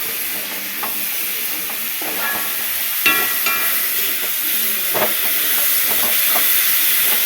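Tomatoes sautéing in hot oil for a prawn curry give a steady close sizzling hiss with scattered stirring scrapes and clinks, and no talk.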